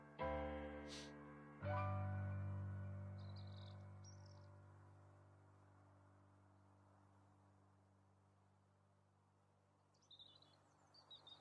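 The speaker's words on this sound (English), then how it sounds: "Do you hear the birds?" Faint, distant birds chirp in short high bursts in the background, partly masked by a loud sustained musical tone that slowly fades.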